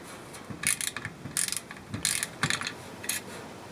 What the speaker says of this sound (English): this is a 1/4 inch socket. Just loosen it up